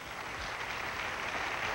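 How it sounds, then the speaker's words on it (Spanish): Studio audience applause on a Spanish-language variety show, a soft, even wash of clapping with no breaks, heard at a distance. "Aplauso para la primera pareja."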